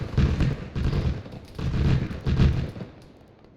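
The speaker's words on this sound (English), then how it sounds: "post being lit up by a ZSU autocannon" ZSU autocannon fire in an Arma 3 battle, heard as several heavy rolling bursts of booming shots in quick succession that fade out toward the end.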